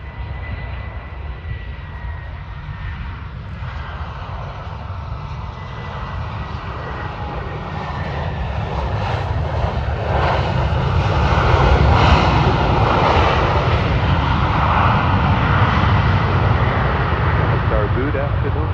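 A Delta airliner landing on runway 12 right at Minneapolis, its engine roar building from a steady rumble to a louder, closer drone as it nears, with tower radio talk over it.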